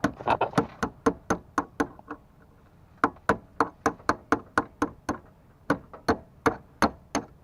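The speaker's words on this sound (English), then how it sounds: "just knock this little pin out right here" A Jeep Wrangler TJ clutch master cylinder pin is knocked out with repeated sharp, close metallic taps, about two dozen strikes in quick bursts separated by brief pauses.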